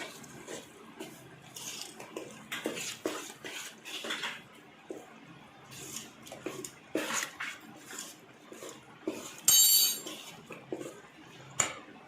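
Spices such as turmeric and red chilli being stirred into a pan for a Gujarati handvo tempering, with repeated metallic scrapes and clinks of a spoon against the pan, close and fairly busy, with no talking.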